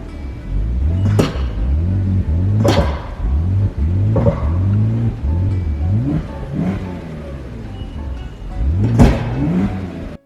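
A 2004 BMW X3 engine runs rough, its idle lurching in repeated uneven surges and dips with a loud, steady rumble throughout, close by and without talk.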